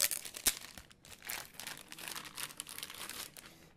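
Sticker being peeled and crinkled off a new Line 6 Relay G10 wireless guitar unit, a run of close, uneven crackling and tearing rustles with a sharp snap near the start.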